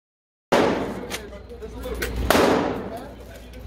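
A single loud gunshot at a shooting range bursts out suddenly from silence, with a second sharp report following about two seconds later as the ringing decays.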